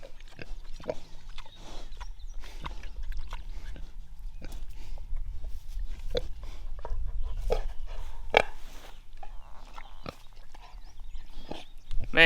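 Pigs mouth a broken turnip, picking pieces up and dropping them, giving soft scattered thuds, snuffles and low grunts against quiet outdoor background.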